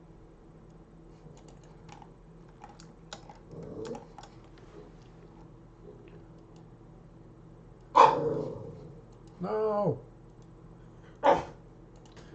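Dogs in a house barking a few times, a couple of loud close barks and a yelping run, after quieter clicking and keyboard tapping in the background; no one talks.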